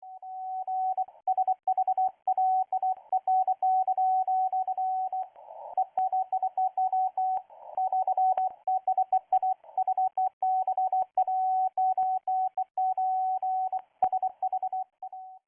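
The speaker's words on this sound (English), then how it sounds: "What we're seeing here is 2 FSK transmissions" A Russian military radio signal sent as an FSK data transmission: a steady single-pitched tone keyed on and off in rapid, irregular bursts with short gaps, continuing throughout with no voices.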